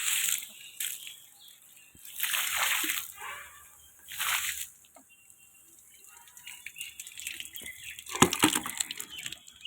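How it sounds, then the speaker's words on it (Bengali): Water is splashed and sloshed across a hot rooftop in a few separate bursts, close and fairly loud, with quieter gaps and a scattering of lighter splatters near the end. "ছাদে একটু জল দিয়ে দিচ্ছি, এত ছাদ গরম হয়ে আছে, যাতে একটু ঠান্ডা হয়।"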